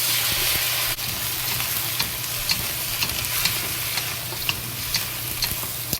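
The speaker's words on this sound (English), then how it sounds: "And add the green pepper into it. Okay, fry it." Tofu and green pepper fry in a pan with a steady, bright sizzle throughout, while occasional light clicks and taps of a utensil against the pan come through up close.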